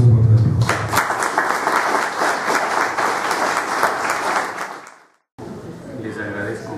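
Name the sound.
warm applause welcoming speaker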